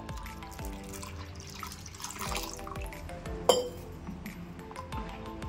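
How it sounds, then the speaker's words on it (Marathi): Water is poured into a vessel of peeled raw mango pulp for aam panna, giving soft splashing and dripping with a few sharp clinks of glass or metal, close up and fairly quiet. "तर याच्यामध्ये आपण 1 लिटर पाणी घालायचं"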